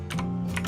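Two quick, crisp computer mouse clicks sound close up over a low electrical hum while grip points are picked in AutoCAD.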